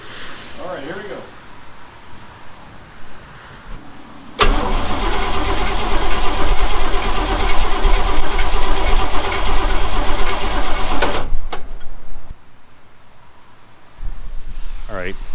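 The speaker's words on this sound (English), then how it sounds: "compression tester is now hooked up, so we're gonna spin this over again" A 1978 Oldsmobile Toronado XS barn-find engine cranks over with a compression tester hooked up. The loud, steady starter churn runs for about seven seconds and stops abruptly, with voices nearby before and after.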